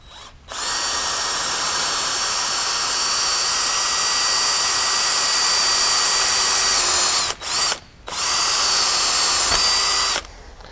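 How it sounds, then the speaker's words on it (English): A power drill with a drill bit bores out rivets on a skid plate for a Can-Am X3 XRS, a loud, steady high whine held for several seconds, broken by two brief pauses, then stopping near the end. "So basically you're just going to be drilling the rivets out with the drill bit that we've supplied."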